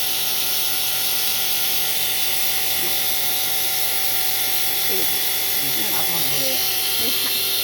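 A cow milking machine's motor runs steadily during washing, a continuous mechanical hum with a faint rattling texture, close and fairly loud, while voices and small clinks come and go above it.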